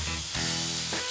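Soy sauce poured into a hot pan of stir-fried Chinese cabbage with sausages, giving a loud, close, continuous hissing sizzle that swells sharply about a third of the way in.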